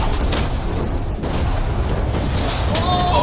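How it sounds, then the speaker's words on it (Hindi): A huge TNT explosion in the video game Minecraft rumbles as a loud, sustained low boom filling the whole clip, with a brief sharper burst near the end. "ये बहुत ही बड़ा धमाका होने वाला है।"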